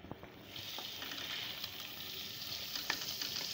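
Masala and chicken gizzards fry in a pan with a steady, close sizzle and faint crackles and pops throughout, without any voices.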